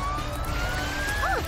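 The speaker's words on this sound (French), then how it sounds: "Amber, l'ambulance est là." Siren of Amber, a cartoon ambulance, holding a steady tone, with a short warbling chirp near the end and no talk over it.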